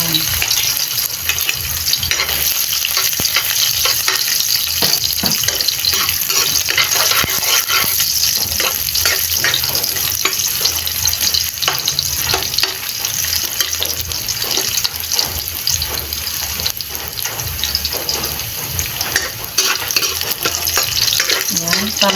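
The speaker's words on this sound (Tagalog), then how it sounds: "Pa-brownin natin muna yung bawang" Garlic browning in hot oil for pancit, with a loud, dense, continuous sizzle and crackle that fills the whole stretch, with occasional stirring and no clear talk.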